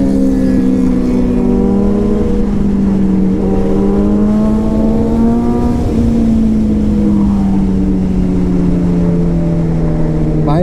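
A motorcycle engine, on a bike pushed to very high speed, revs hard during a wheelie attempt, its loud droning note climbing and falling close up over heavy wind rush.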